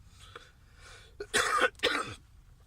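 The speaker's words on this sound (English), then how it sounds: "Sorry about the cough" A person with a bad flu coughs twice in a harsh, throaty burst at close range, with a faint throat clearing just before, over a low background hum.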